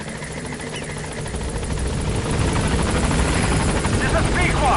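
B-Quad support helicopter from Metal Gear Solid V coming in to a landing zone, its rotor thrum swelling steadily louder as it nears, with a radio voice over the approach.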